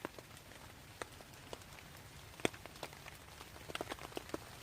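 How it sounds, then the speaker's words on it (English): Rain patters steadily on a surface at a wild campsite, with scattered sharper drops standing out over a continuous close hiss and no talking. "Yeah, the rain is picking up now."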